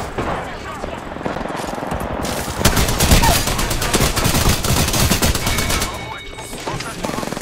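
Gunfire in the video game Apex Legends: a loud, sustained volley of rapid shots that peaks mid-clip and then tapers off, with a voice speaking over the action.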